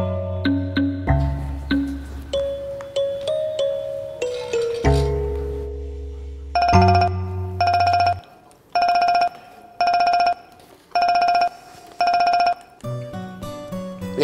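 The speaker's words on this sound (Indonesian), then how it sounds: "Bapak telepon Ojaknya" A telephone rings in repeated regular bursts with pauses between them, following a stretch of tonal chimes and low electronic notes.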